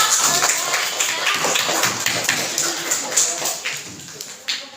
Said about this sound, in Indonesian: kasih tepuk tangan buat semua kelompok